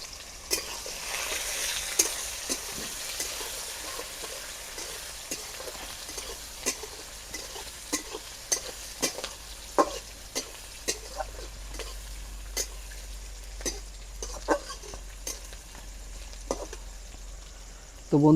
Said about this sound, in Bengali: পেঁয়াজটা রসুনটা ভালো করেই ভাজা হয়ে গেছে